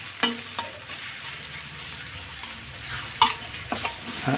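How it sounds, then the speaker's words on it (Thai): Thai curry paste stir-fries in a pan for spicy catfish stir-fry: a soft, steady sizzle with a few sharp spatula scrapes and clicks scattered through, close up and without talk. "พริกแกงข้าวไปผัดนะครับ ผัดให้หอมนะครับ"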